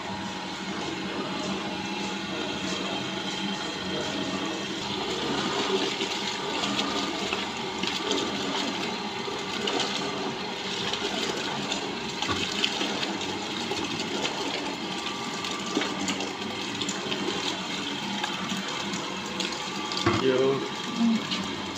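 Water being slowly poured into spring roll wrapper batter as it is stirred, probably in a batter mixing machine, giving a steady watery rush and churn with machine hum throughout, near and fairly loud.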